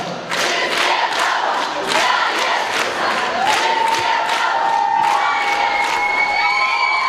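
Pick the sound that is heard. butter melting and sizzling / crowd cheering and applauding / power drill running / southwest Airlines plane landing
crowd cheering and applauding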